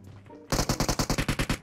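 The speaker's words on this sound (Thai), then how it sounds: "เอาทำไมยิงกันเองอ่ะพี่กัน" Rapid automatic gunfire in a shooting video game, a burst of about ten evenly spaced loud shots close by, following a short quiet stretch with faint background tones.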